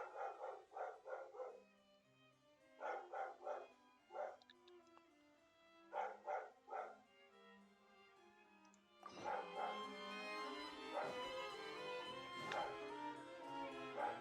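A dog barks in several short clustered bursts, fairly close, before steady background game music takes over the rest of the stretch.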